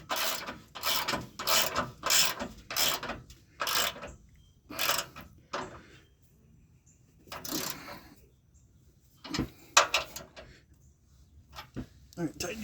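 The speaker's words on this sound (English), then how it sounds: "what he's tightening is these bolts right here that hold the side of the bumper" Bolts being tightened on the side of a Hooke Road bumper fitted to a 2010 Jeep Wrangler, with repeated ratcheting clicks in short bursts separated by pauses, fairly close, with people talking at times.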